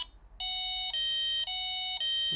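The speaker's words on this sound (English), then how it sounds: "if I turn this off now, it will set off the alarm on the receiver." Delkim fishing bite alarm receiver sounding a loud, sharp electronic two-tone warble, repeating in rapid pulses for about two seconds after a brief faint start.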